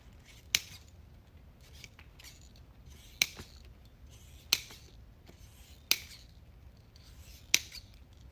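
Scissors snip out pieces for a red plaid ribbon flower wreath, five sharp distinct cuts at irregular intervals, close and clear over a quiet room with faint rustling between.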